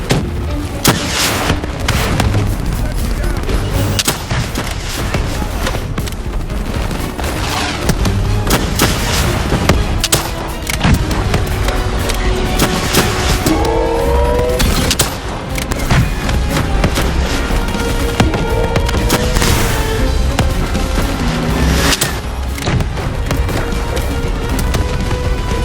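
Dense, loud gunfire and heavy explosions fill a Call of Duty: Black Ops 3 battle without letup. Rapid shots and deep booms layer over one another for the whole stretch, with brief shouted voices mixed in.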